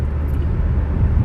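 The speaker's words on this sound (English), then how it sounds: "I'm in the car driving." Steady low rumble of a car interior while driving, a continuous engine and road drone filling the low end at moderate loudness, with no voices.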